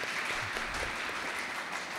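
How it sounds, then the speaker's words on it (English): Audience clapping at a seminar workshop for seminarians and candidates, steady dense applause from a crowd filling the moment evenly without pause. "Very good clap to father and the sister for such a good thing."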